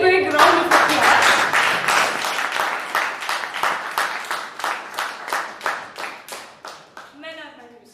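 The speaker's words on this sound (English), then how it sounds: "he deserves a very big round of applause." Applause at a Toastmasters club meeting in Bangalore starts as a burst from the audience, then thins into a rhythmic series of evenly spaced single claps that fade out. A voice speaks at the start and again at the very end.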